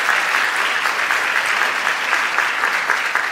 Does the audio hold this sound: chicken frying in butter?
no